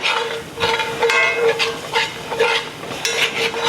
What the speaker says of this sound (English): I'm just cooking it long enough for it to get the flour taste out.